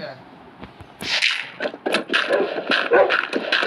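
Dogs in the Minecraft video game yip and whimper in short, close bursts against quiet in-game ambience, while a player talks over them.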